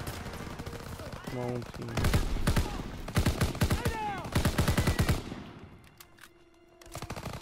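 Repeated machine-gun bursts crackle through a World War II shooter battle, several loud rapid volleys in close succession, with a short voice briefly heard amid the firing before things quiet down.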